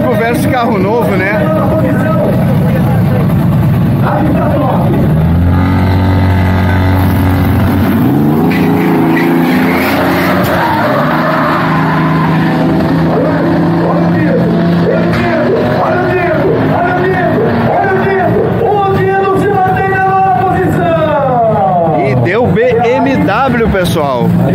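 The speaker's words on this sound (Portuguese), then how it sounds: "Chevy 500 V6 biturbo versus BMW 6 cilindros, é os novos, né, carro novo versus old school" A Chevy V6 biturbo races a six-cylinder BMW 335i at a street-racing event. Engines roar and rev with rising, sweeping pitch over a long, loud stretch, under crowd noise and voices talking.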